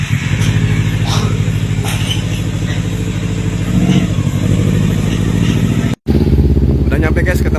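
A motorcycle engine runs loud and close, revving as the bike rides off, with a brief cut before the steady engine drone resumes; people talk over it.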